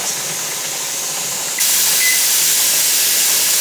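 A pressure canner pot holding vegetable and chicken stock vents steam in a steady broad hiss that jumps abruptly louder partway through and then holds constant, close and with nobody speaking.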